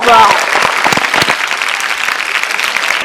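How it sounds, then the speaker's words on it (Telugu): Loud, close applause from a studio audience cheering the winning girls team on a TV game show, a dense, steady burst of clapping after a brief voice at the start. "come on clap"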